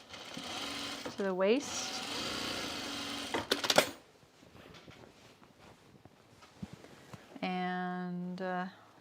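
A sewing machine stitching a pullover camp dress runs in loud whirring bursts, then pauses while someone talks quietly, before another steady humming run of stitches close by.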